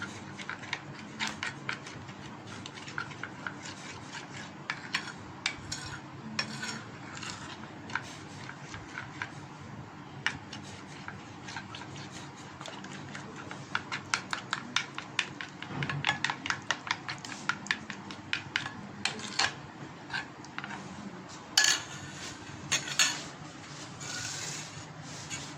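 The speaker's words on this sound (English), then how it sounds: "A little lumps are there, so I beat it little more." Whisk or fork beating chicken fritter batter in a bowl, a quiet, irregular run of small taps and clinks against the bowl that grows busier and sharper toward the end, heard alone without talk.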